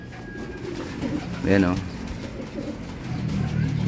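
Racing pigeons coo in a loft during an inspection, one short throaty coo rising near the middle, with people talking over and around it.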